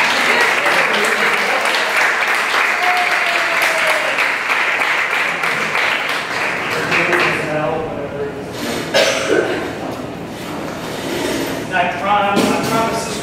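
An audience applauds to welcome Brother Michael Duffy at Elms College, sustained clapping from a crowd that thins out toward the end, with scattered voices and a cough mixed in.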